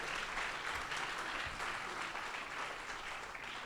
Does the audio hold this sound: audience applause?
yes